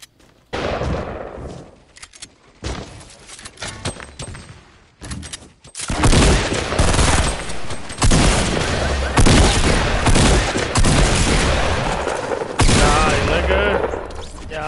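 Rapid bursts of gunfire in a Fortnite match, loud and dense, with a fusillade of shots and booms running nearly throughout, broken by short quiet gaps early on.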